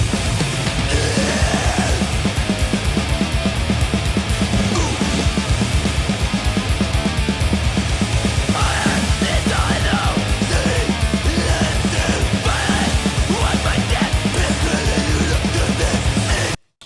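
Dense, loud death metal mix playing back continuously, with pounding rapid kick drums, distorted guitars and harsh screamed vocals filling the whole stretch before stopping abruptly at the end.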